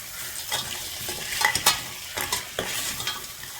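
Ingredients for a crab soup get stirred in a frying pan: soft scraping and clinking strokes over a quiet sizzle, close and fairly faint, in an irregular rhythm.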